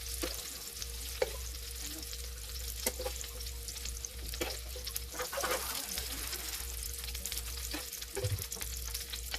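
Onions fry in hot oil for bistek Tagalog, with a continuous close sizzle, popping spatters and occasional utensil knocks over a low steady hum, and no voices.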